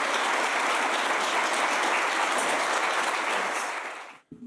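An audience gives a lecture hall welcome to two architects, a full, even round of applause that holds steady before quickly dying away at the end.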